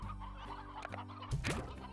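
Chicken clucking in the video game Slime Rancher, a few short fowl clucks over steady game music and hum, with a louder burst of clucking near the end.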